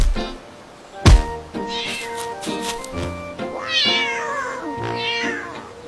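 A cat meows several times, loud and close, with drawn-out wavering cries and a sharp thump near the start.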